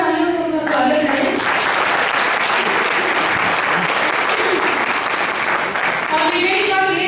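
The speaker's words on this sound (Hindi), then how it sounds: "जोरदार तालियों से उनका स्वागत करें" At a Hindi comedy poetry gathering, an audience breaks into loud sustained applause welcoming a poet, dense clapping filling the room, with a voice speaking over it at the start and again as it fades.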